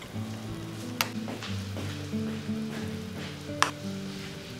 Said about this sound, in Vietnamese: Khi nước sôi mạnh, có bọt nổi lên bề mặt thì các bạn nhớ hớt bọt cho sạch.